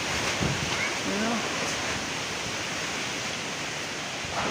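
Strong wind with heavy rain batters a small church, making a constant, loud, broadband roar with no pauses.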